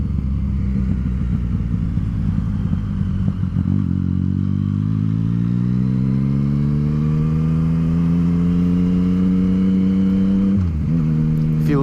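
A 2016 Yamaha FZ09 (MT09) with a Power Commander and full titanium Akrapovic exhaust rides close and loud, settling to a low idle and then pulling away in a long rising rev that climbs through the gear, with a shift blip near the end.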